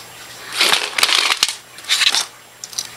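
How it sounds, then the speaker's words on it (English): A key is pried off a Toshiba Satellite A70 laptop keyboard, giving a few close, loud bursts of plastic crackling and snapping with short pauses between them. "And I just ripped one of the keys off."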